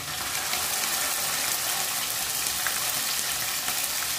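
A masala of garlic, onion, ginger, chili, cumin-coriander and turmeric pastes with chopped tomato fries in a pan, producing a loud, steady, unbroken sizzle from start to finish.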